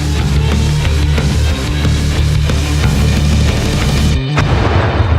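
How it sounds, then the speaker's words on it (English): A hand grenade detonates on a basic training grenade range, a single deep boom arriving near the end amid loud, constant rumbling noise. "When I threw the grenade, I guess one word to explain it would be wow, because just feeling the thump in your chest and the overall firepower"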